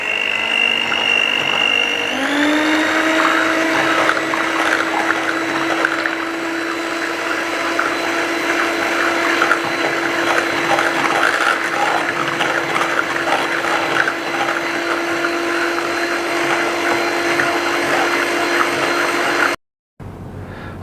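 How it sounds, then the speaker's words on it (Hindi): An electric blender whirs steadily as it mixes condensed milk into a no-bake mango cheesecake filling, with a loud, continuous motor drone that runs alone for about twenty seconds before cutting off abruptly. "कंडेंस मिल्क डालने के बाद इसको मैं सिर्फ 1 मिनट के लिए मिक्स करूंगा।"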